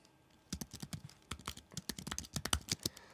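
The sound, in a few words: typing on a Keychron V6 Max keyboard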